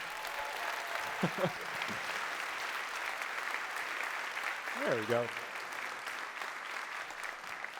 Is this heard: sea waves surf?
no